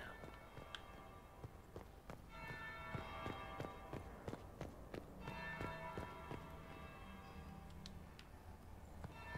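Bells ring out in a Dragon Age: Inquisition game scene, several resonant strokes with lingering tones sounding among footsteps and game ambience, at a moderate distance.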